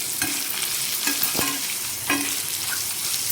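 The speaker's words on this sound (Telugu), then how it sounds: "ముందైతే పచ్చెనపప్పు, జీలకర్ర, ఆవాలు వేసి ఇవన్నీ కొంచెంసేపు మళ్ళీ రోస్ట్ చేసుకోవాలి" Chana dal, cumin and mustard seeds roast in hot oil in a pan, a steady sizzle broken by a few sharp scraping stirs and light seed pops, close and with no voices.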